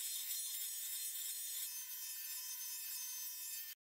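An angle grinder fitted with an aggressive flap disc grinds rusty sheet iron, a steady high-pitched abrasive rasp holding at constant loudness before cutting off abruptly at the end.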